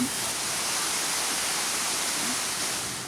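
A waterfall in the mountains of Belu Regency, Indonesia, gives a steady, broad rushing roar that stays even for the whole stretch, with no talking.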